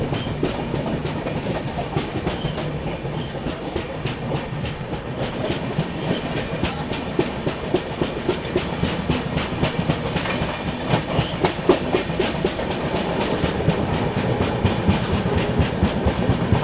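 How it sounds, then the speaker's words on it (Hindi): A train hauled by a WAP-7 electric locomotive accelerating onto the main line near Ramganj Mandi Junction, a coach with a flat wheel clattering steadily on the rails in a continuous rhythmic thump, heard from inside the train without talk. "फ्लैट व्हील का आप लोग साउंड सुनिए बस।"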